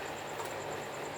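A model Hogwarts Express runs around the back of a home train layout, a faint, brief, steady whirr and rattle of small wheels on track with no talking.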